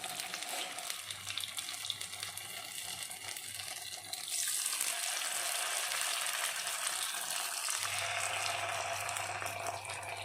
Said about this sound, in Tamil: எண்ணெய் சூடானதுக்கப்புறம் ஸ்டவ்வை லோ ஃப்ளேமில் வச்சுட்டு ஒரு ஃபிஷ்ஷை ஆட் பண்ணிக்கலாம்